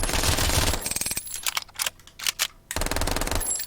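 A rapid-fire laser weapon in the Triton VR game fires in fast bursts of sharp clicking shots, loud and close, with short gaps between bursts and no talking.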